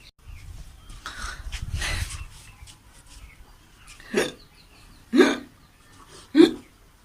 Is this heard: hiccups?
yes